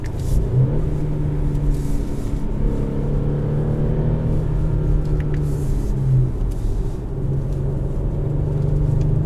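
A 2022 Audi SQ5 Sportback Premium Plus engine drones and rises steadily from inside the cabin, with shifts marked by brief drops in pitch, loud and continuous throughout.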